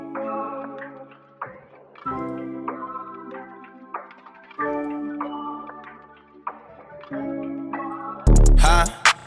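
Layered soul sample with sustained chords, melodic textures and light percussion playing together, swelling in a few repeating phrases before a loud, dense burst at the end. No voices.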